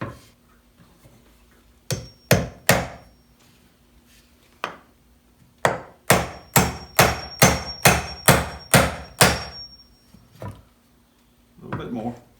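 A hammer drives and then bends over a nail in wood, with sharp close blows in two short bursts followed by a steady run of about eight evenly spaced strikes, with brief talk at the end.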